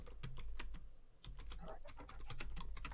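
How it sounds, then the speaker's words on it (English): Rapid clicks of a computer keyboard being typed on, irregular bursts of keystrokes, faint and close, with no voices. "Oh, you're typing something."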